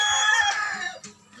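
Backyard chickens and roosters cluck and crow in a short burst, a strained crowing call followed by a few soft clucks at moderate distance.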